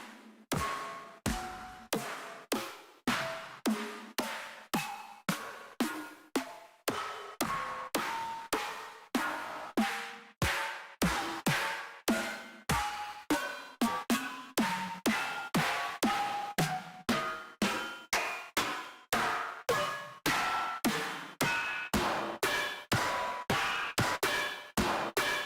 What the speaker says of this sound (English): I released a sample pack called Trash Can Snares, and it sounds like this.